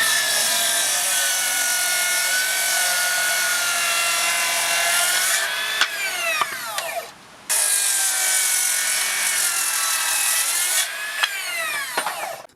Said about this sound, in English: you can just do a bevel cut like this